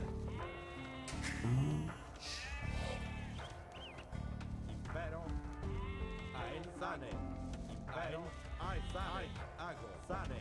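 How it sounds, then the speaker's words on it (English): Several sheep bleat in Age of Empires 2 DE over steady background music, with footsteps and voices mixed in throughout. "A bunch of sheep."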